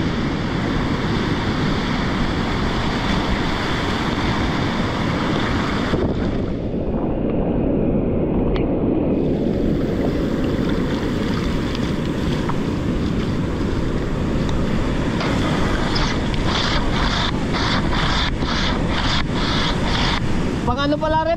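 Strong storm wind gusts and ocean waves crash at a coastal village in Bucana during low pressure and rain, a loud continuous roar with buffeting on the microphone, while voices talk faintly in the background.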